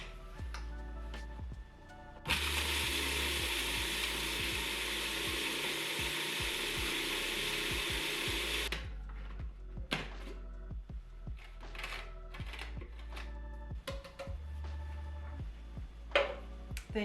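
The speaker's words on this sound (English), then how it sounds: "You'll add your Turbinado sugar into the food processor. And process for about 30 seconds." A food processor whirs loudly and steadily for about six seconds as it blitzes turbinado sugar, starting and stopping abruptly, with clattering kitchen handling sounds before and after.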